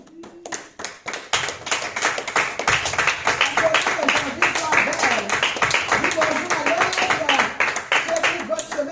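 A church congregation claps in praise of Jesus during a French-language worship service, with steady, fast rhythmic hand claps filling the room, mixed with voices and cheering throughout.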